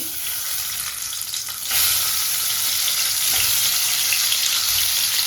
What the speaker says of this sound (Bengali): প্রথম ডিমটা ভাজার জন্য আমি তেল দিয়ে দিলাম ডিমটা দিয়ে দিচ্ছি